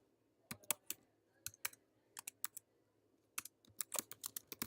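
Close computer keyboard typing while entering code, quick bursts of crisp key clicks in uneven clusters separated by short pauses, quiet and alone.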